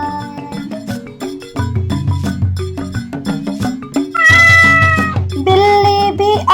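Cartoon-style cat meows ring out over a bouncy nursery rhyme backing track with piano-like notes, several bright meow calls rising above the music near the end.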